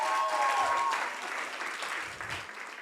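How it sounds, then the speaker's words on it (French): An audience at a worship team concert applauds the pianist, a short burst of steady clapping that fades slightly as it ends, with a brief held tone at the start. "Est-ce qu'on peut l'acclamer très fort?"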